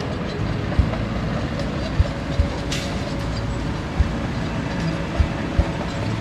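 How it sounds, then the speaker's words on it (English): A water truck working at a dam construction site gives a steady, continuous low engine rumble with a few sharp knocks and clanks scattered through it, fairly loud and near, with no talking. "Water truck while we're over here."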